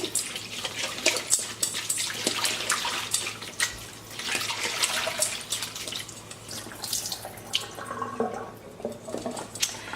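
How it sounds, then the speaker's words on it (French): Running tap water splashes continuously over cut pumpkin in a sink, with uneven spatters and drips as the flow shifts. "je vais donc quand même les rincer un petit coup"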